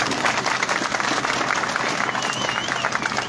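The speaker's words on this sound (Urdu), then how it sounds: "صدام یاد کے لیے ایک زوردار تالی آپ ضرور بجائیں" A student convention audience in Rawalakot claps loudly in a dense, sustained burst of applause, continuous from start to finish with faint crowd murmur underneath.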